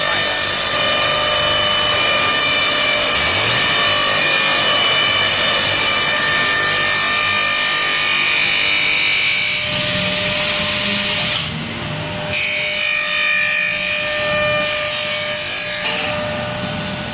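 A cheap two-head aluminum cutting saw machine runs very loudly, a sustained mechanical whine with a steady hum that fills the whole stretch with no speech.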